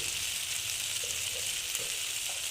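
Cumin powder fries in oil in a pan for aloo dum, a continuous close hiss and sizzle with faint stirring taps.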